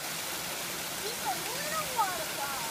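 Small park waterfall splashing steadily as a broad, constant wash of falling water, with faint children's voices and brief calls rising above it.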